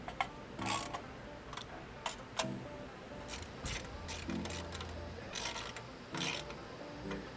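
A 10mm ratchet clicks in quick bursts, tightening a bolt on the transmission pan shield of a 2023 Nissan Z automatic, the close, crisp ratcheting repeating in short runs.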